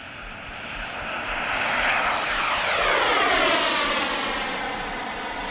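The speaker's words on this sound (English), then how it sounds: "for a little bitty 70mm, this plane has one of the best sounds" High whining jet of a small Freewing Yak-130 RC plane with a 70mm electric ducted fan, swelling as it passes close by and then easing off, with a steady rushing roar underneath.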